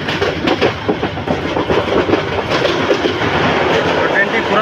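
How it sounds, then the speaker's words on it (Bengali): The Kalni Express, a Bangladeshi passenger train on the Dhaka to Sylhet line, rolls past loudly with a continuous rumble and rhythmic clickety-clack of wheels on rail joints, heard close and without pause. "এই যে নরসিংদী রেল স্টেশনে এসে যাত্রা বিরতি দিয়েছে কালনী এক্সপ্রেস ট্রেনটি"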